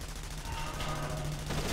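Fast, continuous gunfire in Splinter Cell: Conviction, a dense automatic rattle held at an even level for under two seconds, sounding fairly near with no break.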